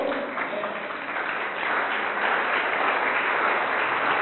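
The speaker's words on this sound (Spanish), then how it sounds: "Démosle el aplauso al Señor." A church congregation applauding during a worship service, a steady wash of many hands clapping that swells slightly and holds at a moderate level throughout.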